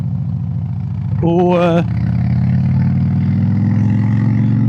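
A motorcycle engine idles loudly and steadily close by, then rises briefly in a short rev before dropping back to a rumbling idle, with someone talking over it.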